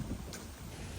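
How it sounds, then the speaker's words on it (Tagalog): Wind blowing through a tall-tree forest at Tribble Mill Park, Georgia, a steady broadband rush with low rumble and microphone buffeting, continuous and fairly loud with no talking. "At maririnig nyo po yung tunog ng hangin sa aking video."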